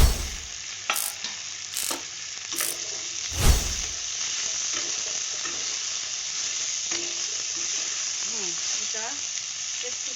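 Potatoes and soya chunks stir-frying in a pan for an aloo posto dish, with a steady sizzle throughout and a few sharp scraping strokes of the spatula near the start.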